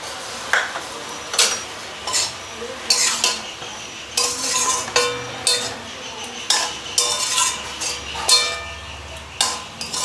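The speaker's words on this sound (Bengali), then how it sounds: "ভালো করে মিশিয়ে নিলাম মটরশুঁটি দিয়ে" Peas are stirred into spiced cabbage for a Bengali coconut cabbage dish, with a spoon scraping and clinking against the pan in repeated strokes, close and fairly loud, with a faint sizzle underneath.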